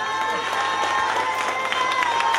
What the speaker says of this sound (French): J'aimerais qu'on les applaudisse très fort